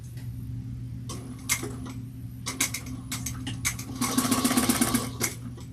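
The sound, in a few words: sewing machine back stitching a bowler bag divider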